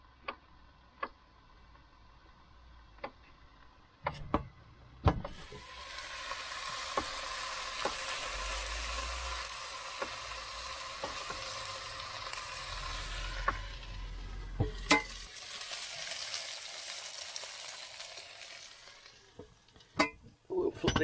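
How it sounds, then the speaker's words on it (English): Mushrooms fry in a pan with a steady, close, continuous sizzling hiss, a few sharp clicks and taps scattered through it and no talking. "As you can hear, they're already beginning to sizzle"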